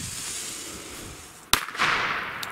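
A small Pyrocracker firecracker goes off once with a single loud, sharp bang, followed by a bright crackling hiss as debris scatters, then a faint second pop; no talking.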